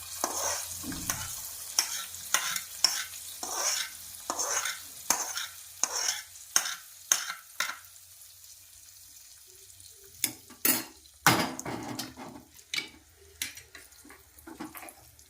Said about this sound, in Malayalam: ഇത് ഈ മീൻ കറിയിലേക്ക് നമുക്ക് ഒഴിച്ചു കൊടുക്കാം